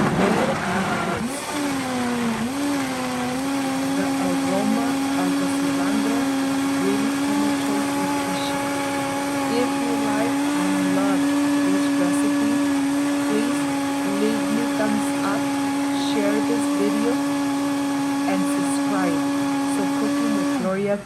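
A kitchen blender runs steadily for about twenty seconds, blending avocado salsa with added liquid, its loud motor whine holding a constant pitch while muffled speech sits underneath.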